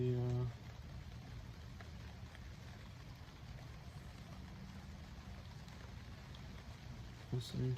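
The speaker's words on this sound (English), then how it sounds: "Just sit here and listen to the rain." Steady rain falls outdoors as a soft, even hiss that continues throughout, with a brief louder rumble at the start and end and no voices over it.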